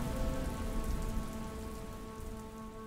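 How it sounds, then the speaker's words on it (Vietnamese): Heavy rain pours down in a dense, steady hiss of drops striking surfaces, loud and close throughout with no voices, under a faint steady background hum. "cơn mưa lớn khắp trời này"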